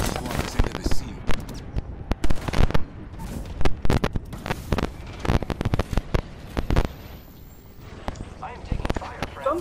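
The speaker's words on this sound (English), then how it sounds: "Yep, somebody shooting." Gunfire in a video game comes as bursts of sharp shots and rapid cracks, irregular and loud, scattered over the whole stretch. There is light background noise.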